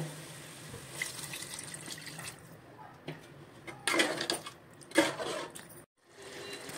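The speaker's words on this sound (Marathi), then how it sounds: "आपण आता त्याच्यामध्ये थोडं पाणी टाकूया." Water pours and splashes into a cooking pot of chicken biryani gravy in a few short bursts, fairly faint with quiet gaps between.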